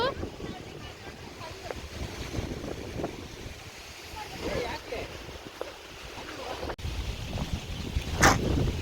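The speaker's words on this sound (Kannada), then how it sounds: "ಓ ಮೈ ಗಾಡ್, ಗಾಳಿ ಅಂತೂ" Strong gusts buffet the microphone at Markonahalli dam, roaring low and uneven throughout while people talk over it, with a sharp rustle near the end.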